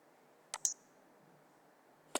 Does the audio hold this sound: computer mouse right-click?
yes